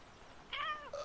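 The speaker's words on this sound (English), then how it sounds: "I heard a cat." A cat meows twice in quick succession, a longer rising-falling cry followed by a short higher chirp, fairly close and clear over a quiet room background.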